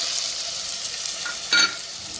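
Ground masala paste sautés in oil for a Tamil fish curry, a soft steady sizzle with a brief louder scrape of stirring near the end.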